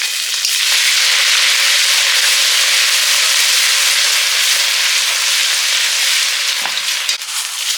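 Bay leaf, turmeric and ginger fry in a pan with a loud, steady sizzle that runs unbroken and close throughout, dipping briefly near the end.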